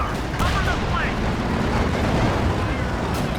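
Calliope rocket artillery firing in Company of Heroes 2, a dense, loud rumbling barrage of low blasts and rushing noise that fills the few seconds without letup.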